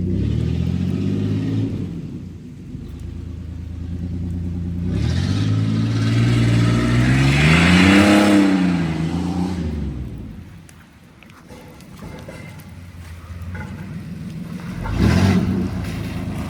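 A Chevy S10 truck with a cut exhaust gets stuck in dirt and spins its wheels, its loud engine revving and surging up and down in long swells, rumbling close by with no talk.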